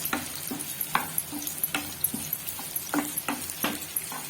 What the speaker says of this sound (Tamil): எண்ணெய் சூடாயிடுச்சு. இப்போ பட்டை, லவங்கம், ஏலக்காய், வெங்காயம்,